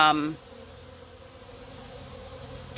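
Honey bees and yellow jackets buzz around a feeding site of spent corn cobs, a faint continuous insect hum that follows a brief louder sound at the start.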